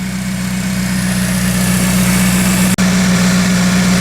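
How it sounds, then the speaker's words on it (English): An engine with brake fluid added to it idles steadily after fifteen minutes of running, giving a loud, even low hum with one brief dropout near the end. "So this motor's been idling away for 15 minutes."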